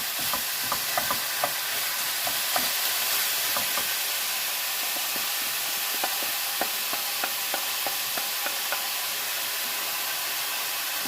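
Beef sears in a hot pan for beef stroganoff, giving a steady hiss broken by frequent small pops and scraping stirs from a utensil, with no voices.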